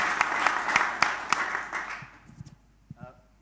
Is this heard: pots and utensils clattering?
no